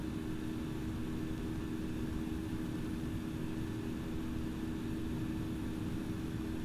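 An airliner in the Infinite Flight game rolls down runway 08 right at Atlanta on a takeoff run, a steady, even jet engine roar with a constant low rumble and hum, loud and unbroken throughout.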